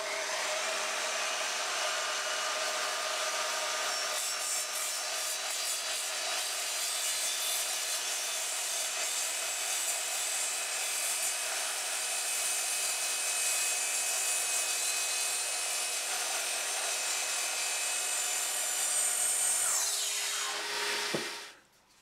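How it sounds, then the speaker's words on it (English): An Evolution Rage 3DB multipurpose mitre saw cuts through timber with nails embedded in it, a loud, steady, high-pitched whining buzz that runs for about twenty seconds before the blade spins down, with no talk over it. "can this machine cut through nail embedded timber?"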